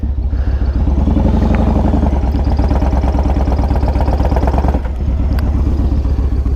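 A motorcycle tire spins on a slippery wet white road marking, giving a loud, sustained engine drone with a rapid clattering pulse, a brief dip near the end, then resuming.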